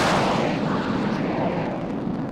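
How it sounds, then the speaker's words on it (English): A missile strikes its target in the Sky Gamblers: Afterburner air-combat game, a loud, close burst of rumbling explosion that rolls and slowly fades over a couple of seconds, with no talk. "Missile hit."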